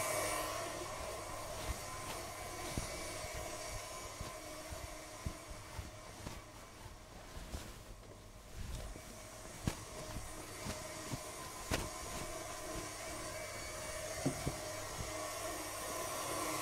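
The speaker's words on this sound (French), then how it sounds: "je, bats ma crème, mais je ne suis pas avec le batteur euh, à puissance maximum" Electric hand mixer whipping cream below full power for a chocolate-and-exotic-fruit dessert, a steady motor whir running continuously at moderate level throughout, with faint clinks of the beaters against the bowl.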